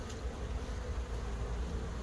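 A honeybee buzzes close by near a hive in spring, a steady low insect drone that holds for the whole stretch without any talking.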